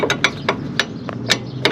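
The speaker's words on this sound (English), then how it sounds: "I was able to get a wrench in here through the wheel well on the driver's side." A ratcheting wrench works on a rack and pinion bolt, reached through the driver's side wheel well of a 2005 Mercury Sable, giving about seven sharp metallic clicks in an uneven rhythm close by.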